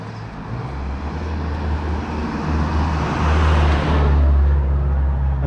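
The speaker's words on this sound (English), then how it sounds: "the only disturbance is the sound of 4x4s, trucks driving a little bit too quickly for the corners" Heavy 4x4s and trucks drive on a wet rural English road, a loud continuous tyre hiss and low engine rumble swelling as a vehicle passes close by.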